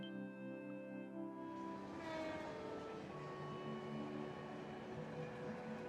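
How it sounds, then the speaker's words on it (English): A train arriving in the video game Trails from Zero, with a sustained horn-like tonal blast giving way to rolling wheel and carriage rumble, steady and fairly close, without speech. "Da kommt ein Zug."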